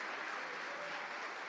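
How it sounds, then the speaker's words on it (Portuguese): A church congregation applauding during a worship service, a dense, even wash of clapping hands that sounds somewhat distant and soft throughout. "enquanto esse povo te aplaude"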